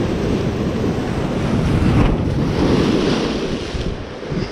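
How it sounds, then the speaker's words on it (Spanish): Surf rolls in heavy and steady on a beach during shore fishing, a continuous close wash of breaking waves mixed with gusty wind buffeting the microphone. "hay mucha ola"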